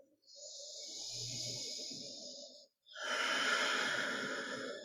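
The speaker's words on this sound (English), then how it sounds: "Take one more cycle of breath." Slow, audible breathing during a seated chair yoga session: a long soft airy inhale followed by a brief pause, then a fuller, louder breath, close and unhurried with no talking.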